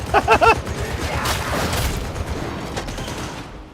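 Enemy gunners open fire in a Warhammer 40k video game, a dense, rapid burst of gunfire up front followed by rumbling booms and ongoing combat noise.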